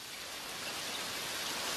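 Cartoon rain pours down in a steady, even hiss of falling drops, soft and continuous with no voices over it.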